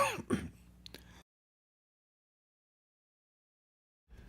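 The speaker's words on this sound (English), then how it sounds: "I'm still coughing" A short burst of harsh coughing and throat clearing up close, then silence, then a faint noise at the very end.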